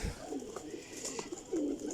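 Kasni pigeons coo in low, rolling phrases close at hand, one louder coo standing out near the end over a soft flock murmur.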